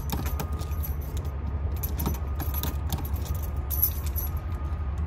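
Keys on a ring jangle and clink in quick bursts, close and fairly loud, during a door entry and ignition access demo with Octo Keys, over a low steady engine rumble.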